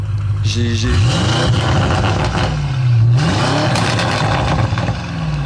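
An Audi RS6 C8 tuned to Stage 2 with a Milltek exhaust and no silencer revs loudly and rises and falls in pitch. People talk over the engine roar nearby.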